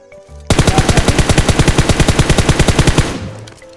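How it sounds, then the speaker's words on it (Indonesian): Gunfire in the PUBG Mobile video game: a loud, rapid automatic burst of about two dozen evenly spaced shots lasting a few seconds, then fading out. "Wah, ditembakin lagi."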